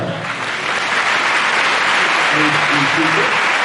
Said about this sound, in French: Let's give an applause to the Lord.